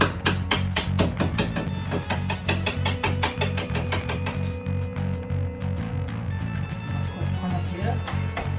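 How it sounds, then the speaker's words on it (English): A hammer strikes a flat-tipped screwdriver to drive out a door hinge pin, a fast steady run of sharp metallic taps close by that slows and softens toward the end. "take a screwdriver with a flat tip on the end, or any other tool that you can use to tap that pin out"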